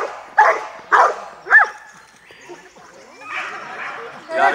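A police dog in object-guarding training at a dog club barks in three sharp, loud bursts near the start, followed by softer whining and yips amid background voices.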